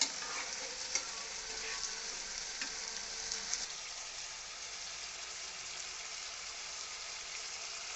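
Spice masala fries in oil in a pan with an even, moderately quiet sizzle and a few early stirring scrapes, cooking steadily with no voices.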